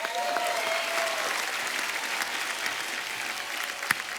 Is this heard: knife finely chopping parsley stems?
no